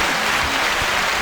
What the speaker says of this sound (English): hand claps to you, acknowledging all your greatness.